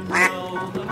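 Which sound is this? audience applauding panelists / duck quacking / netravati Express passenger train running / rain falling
duck quacking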